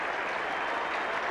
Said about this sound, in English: And even the bowler is clapping the stroke and the century